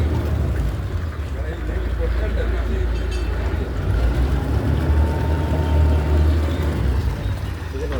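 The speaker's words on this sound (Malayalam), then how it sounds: "യാത്രക്കാരിറങ്ങിയ ശേഷം ബോട്ട് പോയി" A steady low engine rumble of a passenger boat idling at a Kerala village jetty as passengers disembark, with water churning while people talk indistinctly in the background.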